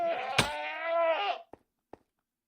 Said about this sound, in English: I've got a goat.